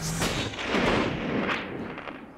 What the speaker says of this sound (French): C'est le tir décisif.